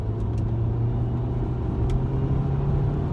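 A turbocharged car with a six-speed gearbox pulls hard in third gear, its engine a steady, loud low drone with a strong fundamental hum that holds throughout, heard from close by without talk.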